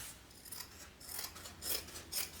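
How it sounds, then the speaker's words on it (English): Scissors trim a stabilizer piece for a Nettie clutch bag, making several soft, close snips and rasping cuts in an irregular rhythm in a quiet room. "It looks like I'm going to have to trim it down just a tad bit."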